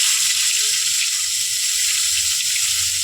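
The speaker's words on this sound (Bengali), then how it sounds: "লাল লাল হয়ে যেতে পেঁয়াজ বাটাটা দিয়ে দেবো তেলের মধ্যে" Onion paste hitting hot oil in a pan for a Bengali eggplant gravy gives a loud, steady, bright sizzle that holds for the whole moment, with faint low bubbling beneath.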